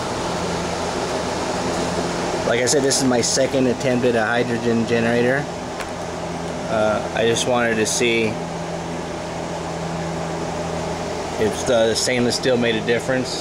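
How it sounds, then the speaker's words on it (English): A household air conditioner hums steadily in the background with a constant low drone, while someone talks over it for most of the time beside a bubbling stainless steel hydrogen generator. "That noise you hear in the background, that's my AC."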